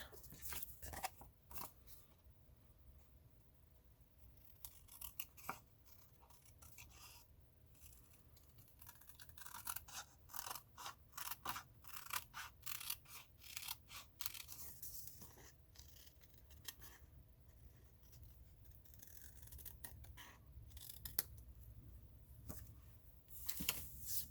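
Scissors snip through paper while a handmade envelope is cut out, giving quiet, close crisp cuts in uneven bursts with short pauses in between.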